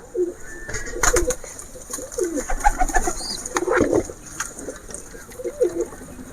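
Young pigeons coo in short, repeated bursts close by, with scattered clicks and rustling between calls and no one speaking.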